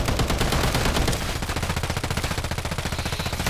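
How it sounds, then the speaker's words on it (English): Rapid automatic gunfire from Call of Duty rattles in a dense, continuous stream, loud and close, settling into an even rhythmic burst of shots in the second half. "Shoot this body. But shoot this body."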